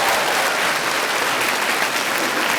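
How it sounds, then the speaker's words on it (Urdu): An audience bursts into dense, loud applause after a recited Urdu verse at a poetry-exchange competition, steady continuous clapping with no pauses. "اس پہ بج گئی تالیاں"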